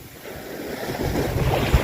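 Ocean waves and gusting wind at sea off the Cayman Islands while fishing, a loud continuous rushing surf and wind buffeting the microphone, rising slightly toward the end, no talk.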